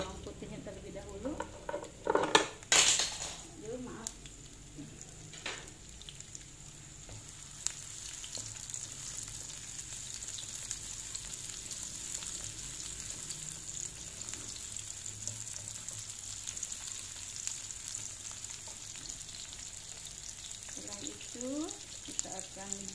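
Shallots and garlic fry in a hot pan for a leunca and tauco stir-fry, with a loud clatter of stirring early on, then a steady soft sizzle that runs on throughout.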